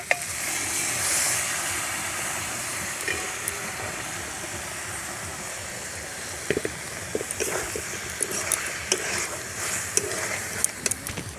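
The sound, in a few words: stir-frying chicken ghugni with peas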